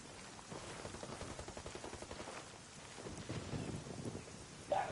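Gunfire in Ghost Recon Ghost War, a quick rattle of distant shots in rapid bursts under windy background noise, with a sharper sound near the end.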